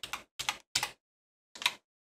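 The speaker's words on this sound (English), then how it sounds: "and the arrow keys on your keyboard." Someone presses the shift and arrow keys on a computer keyboard while working in Adobe Illustrator. There are four crisp, close key clicks: three in quick succession, then one more after a short pause.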